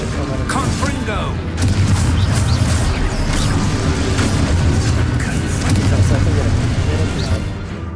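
Loud booms and bursts from a Confringo blasting spell in a Harry Potter video game, layered over dense game sound effects with voices talking throughout.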